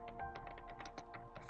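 Python code being typed on a computer keyboard, a brisk run of close, soft key taps in quick irregular succession.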